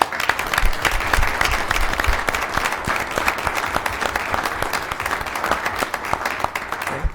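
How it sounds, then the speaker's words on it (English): Sustained applause fills a city council meeting chamber, a steady dense clatter of many hands clapping at even loudness throughout, with no speech over it. "Let's give them another round of applause"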